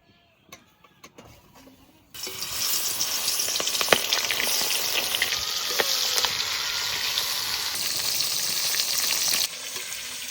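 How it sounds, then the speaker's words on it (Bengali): River prawns, rubbed with salt and turmeric, drop into hot mustard oil in a village kitchen. A few light clicks come first, then a loud, steady sizzle and crackle that carries on close by, with no talk. "এবার মাছ ভেজে দেবো।"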